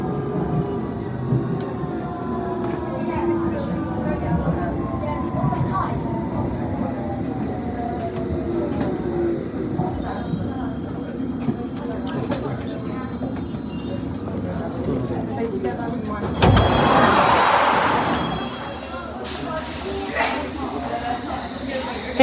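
A London Underground Circle Line S stock train pulls away from Wood Lane toward Hammersmith, its motors whining and rising in pitch over a rumbling rail roar, with a loud burst of noise near the end.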